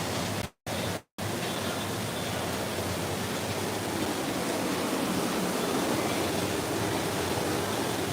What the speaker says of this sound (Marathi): बारीक धबधबा पडाला आहे बघा